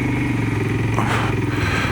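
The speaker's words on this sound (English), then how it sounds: "I'm on a motorcycle." A Royal Enfield motorcycle engine thumps steadily while riding on a country road, a close, continuous low throb with a brief surge of wind and rumble near the middle.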